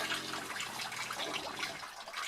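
Shower water running in an off-grid outdoor setup fed by an EccoTemp EM-7.0 water heater, a steady close hiss of spray splashing continuously at moderate level.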